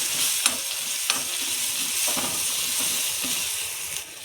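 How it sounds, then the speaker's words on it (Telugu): Maggi masala frying in a pan with curry leaves, a steady bright sizzle with a few scraping stirs of a spoon throughout, close and fairly loud, no voices. "ఈ మసాలాని దీంట్లో వేసుకోవాలి వేసుకొని బాగా వేగనిస్తారు"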